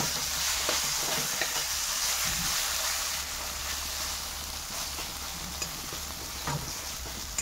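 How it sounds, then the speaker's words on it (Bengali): Pre-fried okra hits sizzling masala in a pan, producing a continuous close sizzle broken by occasional soft stirring knocks, with no talk. "এবার আগের থেকে ভেজে রাখা ভেন্ডি দিয়ে দিচ্ছি"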